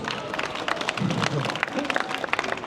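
Audience clapping for a fire juggler at an Edinburgh street show, a dense run of claps close by with a voice talking over it.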